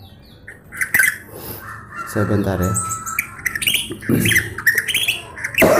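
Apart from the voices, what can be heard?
sick hoarse white-rumped shama (murai) calling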